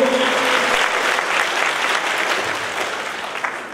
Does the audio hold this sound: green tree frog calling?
no